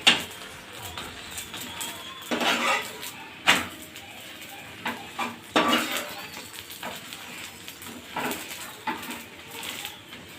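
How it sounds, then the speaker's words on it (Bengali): A garlic paratha fries in oil while being pressed down, giving a soft crackling sizzle with intermittent louder bursts of scraping and pressing against the pan, close and fairly quiet. "তেল দিয়ে ভালো করে চেপে চেপে ভেজে নিতে হবে।"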